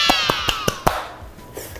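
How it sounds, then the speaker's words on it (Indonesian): Students in a classroom clap for themselves in a quick rhythmic pattern, five crisp claps in a row under a faint murmur of young voices, followed by a fading echo. "Kita beri tepuk tangan dulu untuk diri kita."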